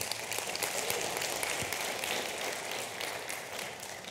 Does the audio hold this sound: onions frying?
no